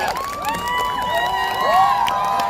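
Crowd cheering at a Democratic Party election rally for candidates, with shrill rising whoops and shouted voices over a lighter patter of clapping, fairly loud and sustained.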